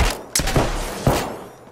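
Rapid gunfire in the video game Apex Legends, two sharp loud bursts of shots with a steady roar of firing in between, close and dominant with no talk.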